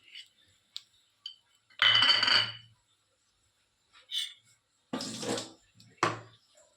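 Water being mixed with jaggery in a kitchen vessel, heard as a few short splashy bursts and light clinks separated by quiet pauses, close and moderately loud, with no talking.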